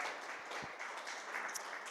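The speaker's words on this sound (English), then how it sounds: "So please give yourself a round of applause" An audience at the Deepcon 23 convention applauds during a talk by Gary Jones, a brief wash of many hands clapping steadily at a moderate, slightly distant level.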